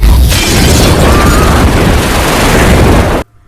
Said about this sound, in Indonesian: Haley mencoba memberikan isyarat dengan menyalakan petasan